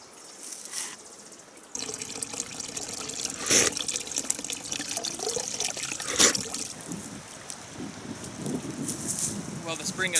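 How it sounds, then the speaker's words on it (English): Spring water running into a small creek, a steady close trickle and burble with brief louder splashes, while a person talks quietly over it. "the spring has turned into a creek"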